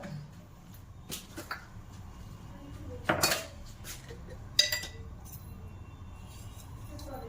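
A frying pan is set and handled on a home stove while Christmas lunch is cooked, with onions about to be fried. Three or four sharp metallic clanks ring out close by over a low, steady kitchen background.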